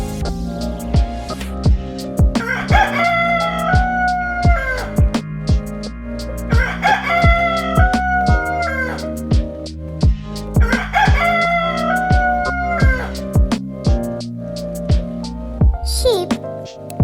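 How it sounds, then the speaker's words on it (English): A rooster crows three times at even intervals, each call loud and drawn out, over a thumping rhythmic music track. "Chicken."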